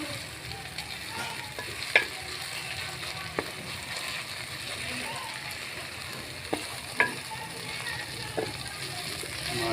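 Mustard greens saag cooking in oil over a medium-high flame, giving a steady soft sizzle with occasional faint clicks and stirring knocks, no talk.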